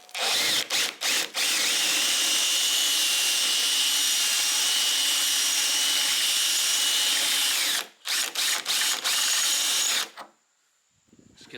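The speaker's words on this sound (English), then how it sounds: "we'll drill this one a bit more" Power drill boring into rusted steel on the front guard of a Holden HK, HT or HG car, a loud sustained whine in long bursts with short stops and restarts, then quiet at the end.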